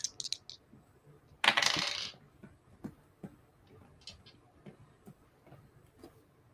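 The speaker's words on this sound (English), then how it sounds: "This is the sound of the D100." A D100 die rolled during a tabletop role-playing session gives one loud rattling burst of clattering plastic, followed by a few fainter ticks and taps as it settles.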